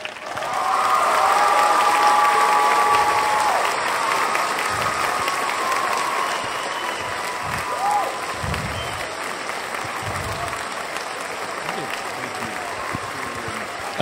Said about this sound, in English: an Earthkeeper round of applause to honor David Hatcher Childress